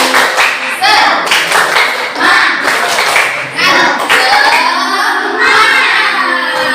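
Children in a classroom do a rhythmic spirited clap together, loud bursts of patterned clapping mixed with shouting young voices.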